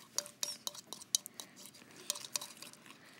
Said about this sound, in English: Then start stirring it.